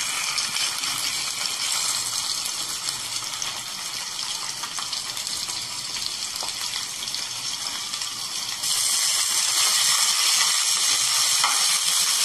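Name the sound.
chicken breast piece frying in pan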